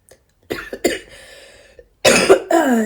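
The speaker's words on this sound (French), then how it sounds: "Et je tousse" A few harsh coughs close by from a sick person: two short bursts early, then two louder, raspy coughs near the end, with quiet pauses between.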